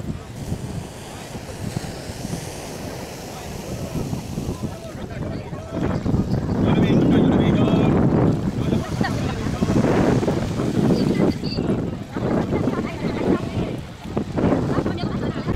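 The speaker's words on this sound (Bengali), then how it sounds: "তো আপনারা এখন দেখতে পাচ্ছেন উত্তাল সমুদ্রের রুদ্র মূর্তি" Rough, swollen sea at Digha beach on the Bay of Bengal during a full-moon high tide, with waves roaring and crashing steadily and strong wind buffeting the microphone, loudest midway; a person talks over it.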